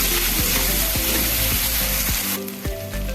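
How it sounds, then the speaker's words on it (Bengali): Coriander and cumin paste fries in a pan with a loud, dense sizzle, while a utensil scrapes through it in regular strokes about every half second. "ধনে বাটা জিরে বাটা এগুলো আমি আবার একটু হালকা কষাবো"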